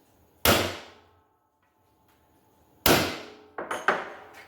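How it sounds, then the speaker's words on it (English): Sharp metallic hammer strikes on a center punch, marking hole positions on a VersiFire DIY kit part: one loud ringing blow, a second after a pause, then two quicker taps, close and clear with no talk. "Now, center punch your holes."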